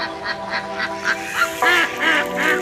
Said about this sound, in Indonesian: Ini bebek kita lagi mandi di bawah kandang kita.